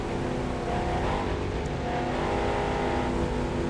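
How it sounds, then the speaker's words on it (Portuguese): A car engine revs loudly and continuously in the video game The Crew 2, a dense, buzzy roar with no voices. "Tô escutando teu carro daqui,"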